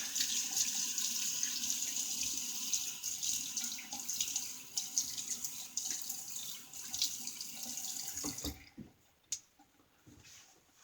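A bathroom tap runs in a steady, quiet hiss while a face is rinsed after a shave, with faint splashes and clicks near the end as the water shuts off.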